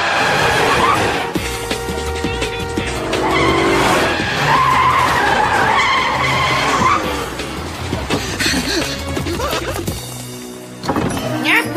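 Tyres skid and screech loudly from a stolen taxi speeding through a cartoon chase, a busy layered soundtrack of engine noise and effects with brief voices mixed in.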